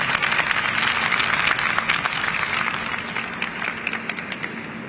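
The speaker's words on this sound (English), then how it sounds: "Give your neighbor a round of applause." Audience applause at a neighborhood community event in Brooklyn, a steady wash of many hands clapping that stays dense and fairly loud throughout, easing slightly toward the end with no talk over it.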